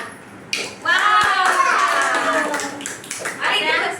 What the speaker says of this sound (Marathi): तरी पण वाजवा टाळ्या.